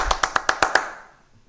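Six crisp hand claps in a quick, even rhythm, close and clear, each ringing briefly before a short reverberant tail fades into quiet in a church setting.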